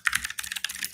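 Quick bursts of typing on a computer keyboard, the clatter close and fairly quiet, with irregular clusters of keystrokes across a second and no talking.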